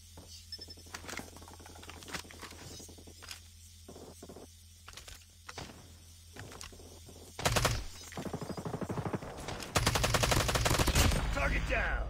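Holger-26 light machine gun fire in Call of Duty Mobile, quiet bursts of shots crackling under game sounds, growing louder and denser toward the end.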